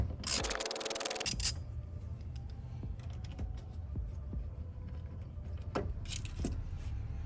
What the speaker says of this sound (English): I'm gonna disconnect the negative post with a 10mm socket.